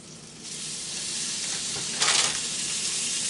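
Margarine sizzling on a small flat-top grill, a steady broadband frying hiss throughout that swells into a louder burst of sizzle midway, close and alone with no talk.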